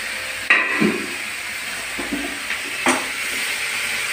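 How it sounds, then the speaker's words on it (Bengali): Sliced onions fry in a pan where the vegetables have been pushed aside, a soft steady sizzle broken by a few sharp utensil clinks and scrapes while a katla fish curry is cooked. "পেঁয়াজটা একবারে সবজিগুলো একটু সরিয়ে পেঁয়াজটা ভেজে নিই।"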